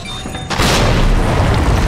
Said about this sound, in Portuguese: quase que explodiu em mim